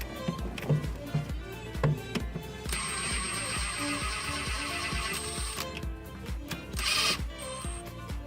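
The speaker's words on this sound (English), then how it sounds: "I'm going to use my impact to take it off the remaining." An impact wrench on a Honda brake caliper bolt rattles in a sustained, loud burst midway through, with a second short burst near the end, set among clinks and knocks of nearby work.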